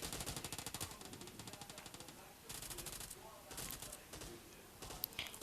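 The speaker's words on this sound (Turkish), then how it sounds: "Şu an bayağı bir sıkıyorlar" Rapid automatic gunfire from an Uzi and other weapons in a PUBG Mobile match, dense bursts of shots that run almost without pause, loud and close, with brief lulls between volleys.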